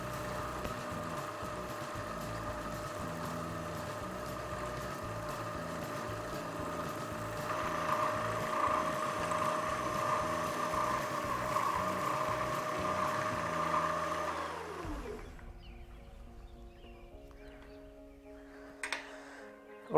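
A Penn Slammer 8500 reel spools braided line in a steady, whirring mechanical drone with a faint ticking rhythm for about fifteen seconds, then winds down and stops, leaving a few quiet handling clicks.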